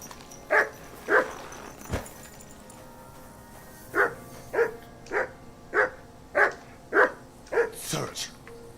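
Dog barking in the Kingdom Come: Deliverance II video game: a couple of sharp barks, a pause, then a run of about eight evenly spaced barks, clear and fairly close over a quiet game background.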